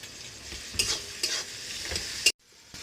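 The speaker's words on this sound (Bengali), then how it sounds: "এবার টমেটো আমি দিয়ে দেব।" Tomato pieces go into a hot pan of frying onion with whole cumin and five-spice, giving a steady sizzle with a few scraping stirs, then the sound cuts off abruptly near the end.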